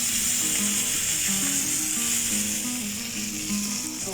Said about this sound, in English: This is chicken fajita sizzling.